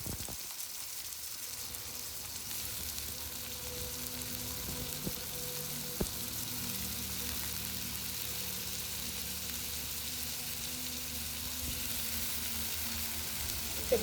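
Finely chopped onion and tomatoes frying in a hot mustard-seed tempering, giving a steady, even sizzle with faint crackles and the odd small clink throughout, without any talking.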